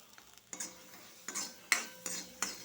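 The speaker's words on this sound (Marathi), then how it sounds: "तुरीचे सोले भाजून घेऊ आपण" Green pigeon peas roasting in a pan, heard as five or six sharp spatula scrapes and stirs with a faint sizzle between them, quiet and close.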